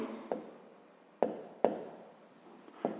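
A pen writes by hand on paper while working a 5th-grade math expression, giving soft close scratching strokes broken by four sharp taps, with pauses between, in a quiet room.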